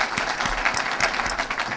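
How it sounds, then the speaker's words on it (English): A brief burst of full, close audience applause at a Côte d'Ivoire community gathering in Los Angeles, dense clapping from a crowd filling the whole short moment. "let's give a round of applause for Ivoire TV from New York"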